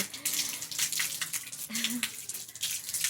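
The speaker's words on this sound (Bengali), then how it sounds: "একটুখানি কলে আমি হাত ধোবো, হাতটা ধুয়ে নিই" Hands are washed under a running tap, a close, continuous splashing rush of water with uneven bursts as the hands move through the stream.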